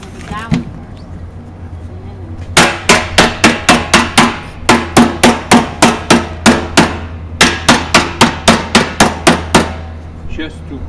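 A hammer strikes a dowel into the head of a wine barrel during repair in a cellar: two runs of sharp, rapid blows, about a dozen each, loud and close with a brief pause between, and faint talk underneath.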